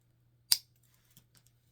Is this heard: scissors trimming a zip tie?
yes